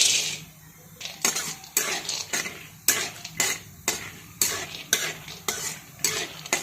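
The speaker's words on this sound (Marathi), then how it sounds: "मोठ्या गॅसवरती शेंगदाणे तळून घेत आहे" Peanuts fry in four tablespoons of oil in a kadhai over a high flame, with steady rhythmic stirring scrapes about twice a second over a soft, continuous sizzle, close by and without talk.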